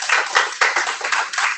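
A church congregation claps hands in a burst of several quick, loud claps that overlap in a rough, steady rhythm.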